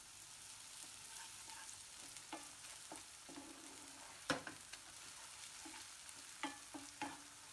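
Ginger garlic paste is stirred into fried onions for a raw banana masala curry, giving a soft, quiet sizzle with a few scattered spoon scrapes against the pan and no voices.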